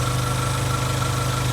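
A 1992 Honda Civic EG hatch, fresh from a new thermostat, exhaust manifold gasket and spark plugs, idles in a steady, even low rumble with a regular pulse, close and loud, with no voices.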